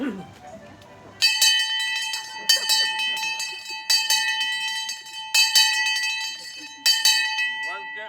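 A town crier's hand bell rung loudly in repeated bursts of clanging strokes, each followed by lingering ringing, with a brief voice at the start, at a model village celebration.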